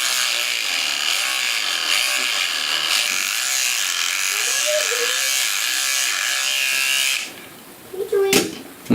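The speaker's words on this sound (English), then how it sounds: "I'm shaving my beard" A close, loud electric shaver buzzes steadily through a beard for about seven seconds, then cuts off, followed by brief handling noise.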